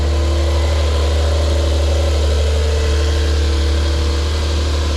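A 2021 Porsche 911 Carrera coupe with dual exhaust idles in Sport Plus mode, a loud, steady deep burble heard from outside the car with no talking.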